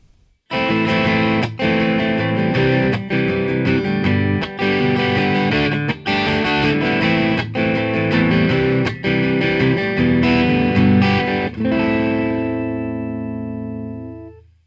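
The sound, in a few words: guitar strumming open chords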